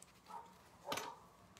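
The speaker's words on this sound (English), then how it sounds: "Those dogs are going to drive me nuts." Dogs bark once in the distance, a brief faint burst heard behind a quiet kitchen room.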